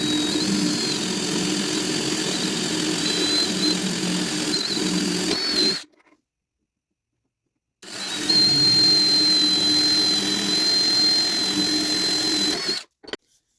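Power drill boring holes for a signature install, a loud steady whine running about six seconds, a two-second silence, then a second long drilling run stopping abruptly.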